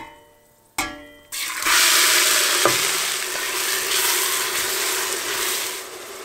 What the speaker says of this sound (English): So now we're going to add in the chopped onions.